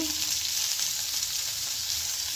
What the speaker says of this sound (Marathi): एका साईडला आपले फिश भाजत आहेत